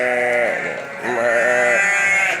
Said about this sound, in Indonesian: Samperin dombanya nih.